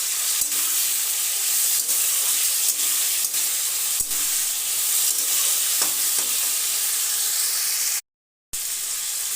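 Sliced ridge gourd frying in a pan, a steady loud sizzle with hissing steam and intermittent stirring scrapes throughout, ending in a brief cut of silence.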